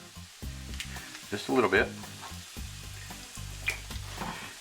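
Lime juice hits a hot butter chicken pan with a sudden loud sizzle burst that quickly settles back into steady frying, while a voice speaks briefly nearby.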